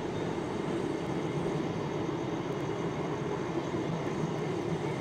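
Steady, even rumble and rattle of a moving passenger train just out of Bandel station, recorded from inside a 3-tier sleeper coach, a continuous broadband roar with no distinct clacks standing out and no one speaking.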